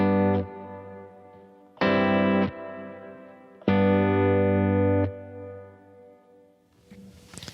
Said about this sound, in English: I tend to have longer sounds, longer decay times